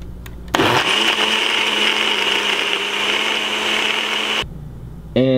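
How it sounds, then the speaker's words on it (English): A blender whirs loudly and steadily for about four seconds as it blends a peanut butter and spinach shake, starting abruptly and cutting off just as suddenly, with quiet before and after. "Now I'm about to blend it up."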